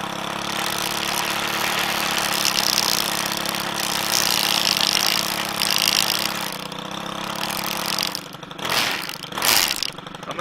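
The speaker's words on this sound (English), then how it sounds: "So here we're gonna slow throttle it, and it still has tons of torque if you don't know the FS90R." A Stihl FS90R string trimmer engine runs loud and close at low throttle, a steady buzzing drone that holds evenly, then dips and surges unevenly toward the end.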